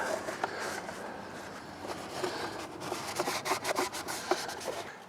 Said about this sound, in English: while the filter is soaking, I'm going to clean out the inside of the airbox.